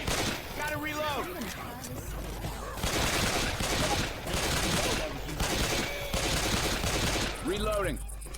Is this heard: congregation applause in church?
no